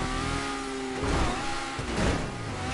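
A car engine in GTA V on PS5 during a one-make race revs continuously, its tone climbing and dipping as the throttle works, loud and steady throughout.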